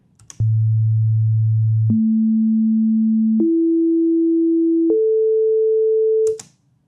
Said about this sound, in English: play the first 4 tones of this series. Listen to these again.